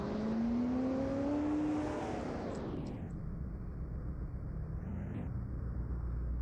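A car drives in the Roblox game Greenville, with a continuous loud engine drone that holds a rising tone, then winds down as the car slows and settles into a steady rumble. No one speaks.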